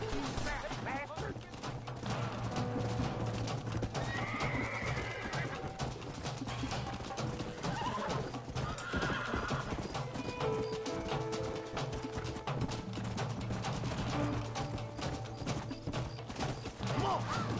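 Horses galloping in the video game Red Dead Redemption, a busy run of hoof clatter mixed with game sounds and brief calls, steady and fairly loud throughout with someone shouting over it.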